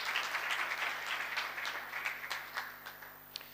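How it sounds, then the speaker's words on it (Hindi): A church congregation applauds after a baptism service, a soft, somewhat distant spread of many hands clapping, with scattered sharper claps standing out as it slowly tapers off. "जोरदार तालियां बजाएं यीशु के जलाल की।"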